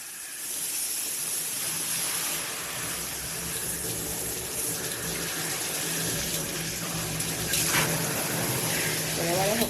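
Water sprays from a Cobbe high-pressure handheld shower head with a filter and nine spray modes, a steady, close, broadband hiss that runs unbroken for about ten seconds.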